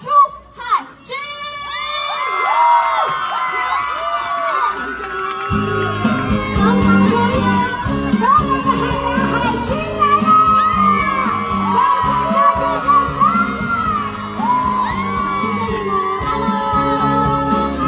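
A crowd cheers, whoops and screams to welcome a singer on stage, loud excited shouting and applause swelling and continuing steadily, with music rising underneath.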